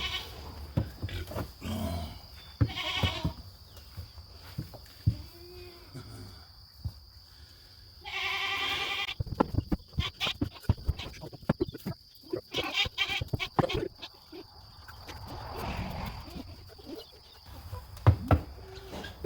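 Goats bleat and grunt close by at scattered moments during washing and milking training at a stanchion, mixed with clattering and handling noises and a steady high-pitched hum.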